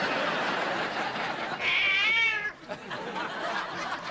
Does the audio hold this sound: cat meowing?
yes